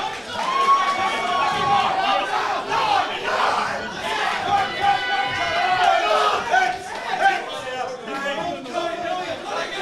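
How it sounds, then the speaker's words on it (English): Loud boxing crowd at a club home show, booing and shouting after a point deduction against the red corner, a dense continuous roar of many voices with yells rising above it, close and sustained throughout. "They're not booing my competition, they're booing that a point has been deducted from the red corner"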